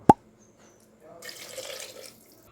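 Water is poured into a pot of basmati rice for mushroom biryani. A single sharp click is followed by a short, close splash of pouring that lasts about a second and then stops.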